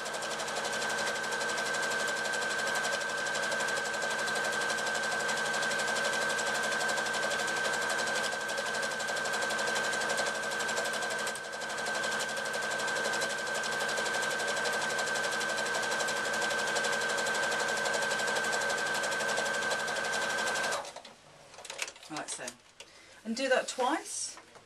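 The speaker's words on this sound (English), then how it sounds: "I'm going to do the same top stitching down the other side just to finish that off" A sewing machine top stitches down the side of a reversible handbag in a long, continuous whir for about twenty seconds, steady and close, before stopping; a voice speaks over the last few seconds.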